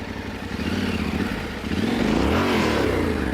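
A Yamaha Tenere 700 motorcycle engine hums steadily through a tight low-speed turn, then swells and revs up as the rider leans harder, loud and close throughout.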